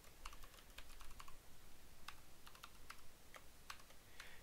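Quiet keyboard typing, a loose run of light key clicks with short pauses, close up against a low steady background hiss.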